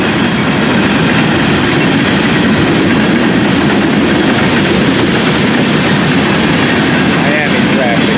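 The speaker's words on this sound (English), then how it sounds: "Freight cars on the head end of this train." A Florida East Coast freight train carrying coal and Miami-bound traffic rolls past at close range, its continuous loud rumble and clattering wheels filling the whole stretch without a break.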